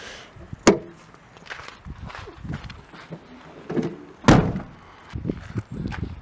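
A car boot lid slams shut with a heavy, hollow thud, followed a few seconds later by a second loud slam, with soft handling noises and shuffling between the impacts.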